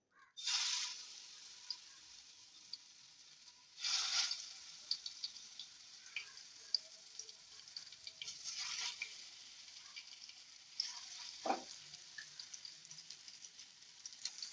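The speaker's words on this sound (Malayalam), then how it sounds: "ഇനി നമുക്ക് ഇതിനെ ഓരോന്നായിട്ട് ഫ്രൈ ആക്കി എടുക്കാം." Masala-coated fish frying in hot oil for a fish biryani, a steady crackling sizzle with a few louder hissing surges as pieces go in. No one speaks.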